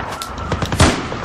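A gunshot in the military shooter Battlefield 4, a short sharp crack followed by a few quick thumps within about a second, loud and close, with no talk.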